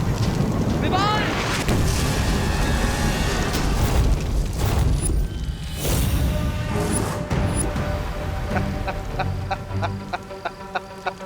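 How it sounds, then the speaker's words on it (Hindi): A cannon fires in a Hindi fantasy TV drama, with deep booms landing amid dramatic music, effects and dialogue throughout. "इस गोले से बचो, इस तोप का वार बहुत खतरनाक है।"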